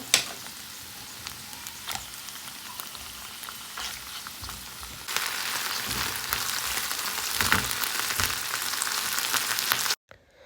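Continuous crackling sizzle from a hot pan of onion and garlic, growing louder and busier halfway through as dried fish (chepa shutki) hits the oil, then cutting off abruptly.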